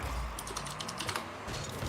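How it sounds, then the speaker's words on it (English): Quick, close-up clatter of typing on a computer keyboard, irregular bursts of keystrokes with brief pauses, heard alone without talk. "I was typing"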